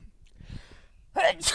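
A soft intake of breath followed by an abrupt sneeze-like burst at the end, close by and brief.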